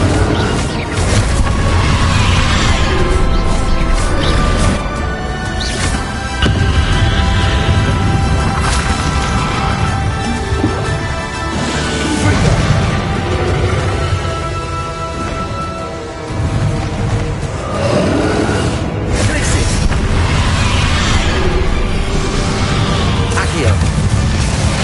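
Confringo blasting-curse explosions in Hogwarts Legacy combat: repeated loud, heavy booms over a dense wall of battle noise and music, with voices talking throughout.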